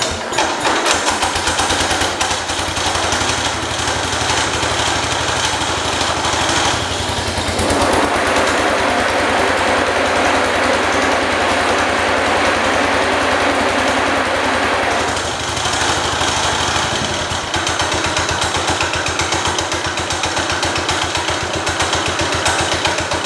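Small 1969 Cub Cadet 105 garden tractor engine running steadily and loudly for over twenty seconds, a dense mechanical drone whose tone shifts as the throttle changes partway through.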